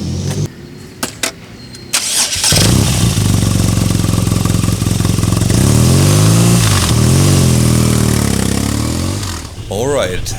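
After a few clicks, a BMW R NineT Racer boxer-engined motorcycle fires up and pulls away, its loud, close engine note rising and falling through the revs before easing off.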